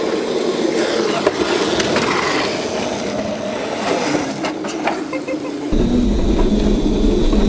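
Drift Crazy Cart, a small electric ride-on drift kart with a right-hand-drive conversion, driven fast: a steady whirring electric motor and rolling wheel rumble, loud and continuous, with a deeper drone rising near the end.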